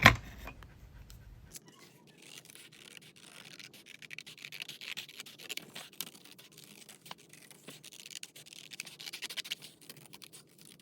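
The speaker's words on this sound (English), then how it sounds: "I'll just grab those scissors back again and chop them up" Rhythmic snipping and scraping of scissors cutting through scrapbooking paper, close and fairly quiet, continuing steadily with no talking.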